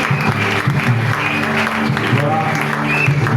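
A church congregation at an evangelical service applauds steadily and loudly throughout, with voices and a sustained musical tone running beneath the clapping.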